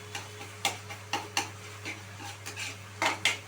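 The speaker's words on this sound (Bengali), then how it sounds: "এবার আমি এখানে কয়েকটা রসুন কুচি অ্যাড করে দিলাম।" Chopped garlic goes into a cooking pan while a Bangladeshi egg curry is made: light metallic clinks and taps of a utensil against the pan, sparse and close, over a low steady kitchen hum, without talking.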